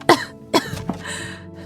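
Two sharp, close coughs followed by a weaker third and a rough throat-clearing rasp.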